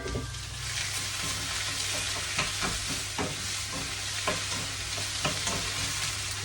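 Chicken pieces frying in oil in a pan, a steady close sizzle with occasional stirring clatter and crackle bursts over about six seconds, no talking.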